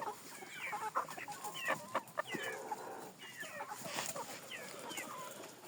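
Young chickens, ducks and a rooster of breeds such as Jersey Giant and crested bearded fowl in a farmyard, clucking and chirping continuously at low level, several birds overlapping.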